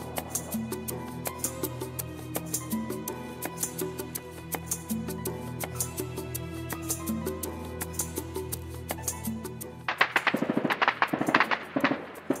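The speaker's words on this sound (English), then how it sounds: "That was gunfire." Gunfire echoing below a hillside viewpoint near Mount Gerizim in Israel, a long run of sharp distant cracks and pops in irregular bursts over a constant low hum, with a denser volley near the end.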